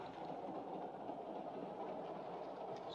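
A train rolling along the rails with a steady rumbling roar and soft rhythmic clatter, continuous and fairly quiet, with no voices.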